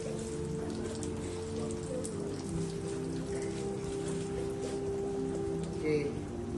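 Water is poured steadily over a body during a ritual washing of the dead, a continuous splashing, rain-like hiss running the whole time while a voice talks faintly beneath it.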